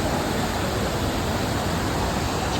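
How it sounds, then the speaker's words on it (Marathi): Marleshwar waterfall in Ratnagiri during the monsoon roars as a dense, unbroken wash of falling water, loud and steady with no variation and no voices. "हा सर्वात मुख्य धबधबा मार्लेश्वराचा"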